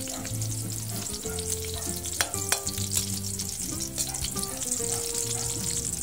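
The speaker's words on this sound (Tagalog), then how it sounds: "Ilagay na natin ito guys, ang ating sibuyas." Onions sizzle and fry steadily in a hot pan, a continuous crackling hiss throughout with a few sharper pops, and no voices.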